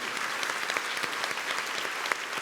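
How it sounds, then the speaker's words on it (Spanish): A church congregation at an evening Holy Spirit seminar applauds the Lord, a continuous, even roar of many hands clapping together, moderately loud and unbroken, with no voice over it. "Denle un aplauso al Señor"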